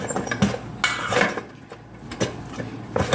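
A utensil stirs salted rice in a bowl, giving scattered scrapes, knocks and light clinks against the dish at irregular intervals, close and moderately loud.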